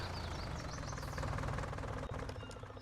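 Tractor engine in Farming Simulator 19, running steadily with a dense, rattling low drone and a close, continuous knocking throb, loud and unbroken apart from a brief dip.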